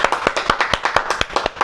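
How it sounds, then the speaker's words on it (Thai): A single pair of hands claps fast and evenly, about a dozen sharp close slaps in quick succession, with no crowd behind them. "แป๊บเดียวเสียงปรบมือมาดังลั่นสนั่นฮอลเลยค่ะ"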